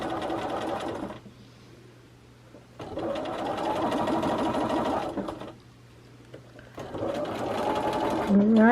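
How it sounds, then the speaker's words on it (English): Sewing machine stitching pinned quilt pieces in runs, a steady mechanical whirring hum that starts, stops and restarts three times, with someone talking over it and during the pauses. "we go to the sewing machine and sew them factory style"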